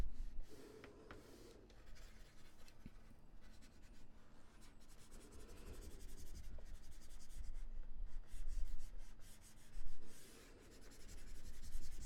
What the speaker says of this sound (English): So I'm going to erase this right now